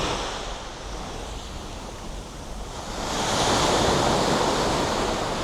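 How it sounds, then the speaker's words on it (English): Ocean waves wash up a sloping black sand beach in Bali, a continuous close roar of surf that swells louder midway, with wind noise and no talk. "there's the incline where it runs, where the tide comes in and washes the sand"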